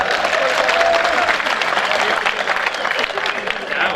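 Loud, sustained applause from an audience at a Rajasthani poetry recital, a dense wash of clapping filling the hall for several seconds without a break.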